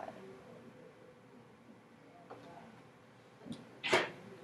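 A single sharp sneeze bursts out near the end after a quiet stretch with faint room noise and a small intake of breath just before it.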